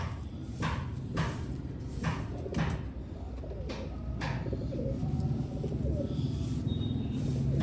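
Slim, light-bodied domestic pigeons coo in low, throaty bursts, several calls repeating near the listener over a steady background murmur of the flock.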